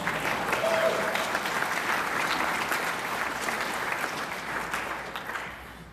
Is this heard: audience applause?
yes